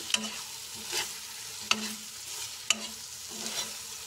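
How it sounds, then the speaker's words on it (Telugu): Bitter gourd and onion masala fry being stirred in a pan over a low flame, with a few sharp spoon scrapes and clacks against a soft, steady sizzle, close by and with no talking. "సిమ్లో పెట్టి మధ్య మధ్యలో కలుపుకోవాలి"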